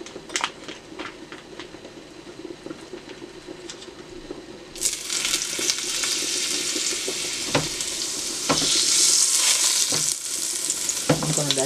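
Butter melting in extra virgin olive oil in a pan before pork chops go in. A quiet sizzle swells into a louder, crackling fry about halfway through and carries on steadily, with no voices.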